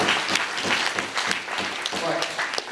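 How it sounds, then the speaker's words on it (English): Applause for educators at a retirement celebration, a room of scattered hand claps rising and falling over a couple of seconds with voices talking through it. "Clap all the educators"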